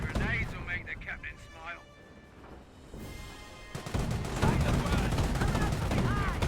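Rifle fire and grenade blasts in the strategy game Company of Heroes, with sharp shots and booms scattered over a continuous background of gunfire while someone commentates throughout.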